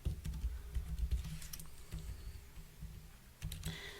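Rapid keystrokes clatter on a computer keyboard in uneven bursts, close and fairly quiet, with brief pauses between runs of typing while web design work is under way.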